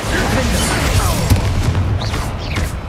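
A Bombarda spell blast in the Hogwarts Legacy video game bursts amid a busy battle mix, with booming, crashing noise spread across the short stretch and rising whooshes near the end.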